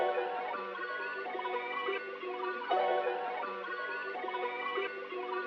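Chopped, time-stretched music sample looped as four repeating parts in FL Studio, a trap beat starter. It plays alone at steady level, with sustained tonal layers and small cuts between sections.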